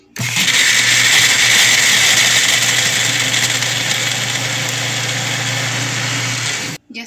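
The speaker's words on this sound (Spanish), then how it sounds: "vamos a poner los cubos de hielo. Una cantidad necesaria, y también añadimos azúcar al gusto y vamos a comenzar a licuar" A blender crushes ice cubes with lemon juice and sugar for frozen lemonade, a steady loud motor whir with grinding rattle running nonstop for about six seconds before cutting off.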